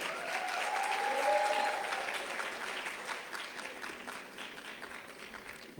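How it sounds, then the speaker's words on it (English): A crowd at an expo on the creative economy breaks into sustained applause, broad and even, with a faint tonal sound briefly riding above the clapping early on before the clapping gradually thins. "A round of applause, please."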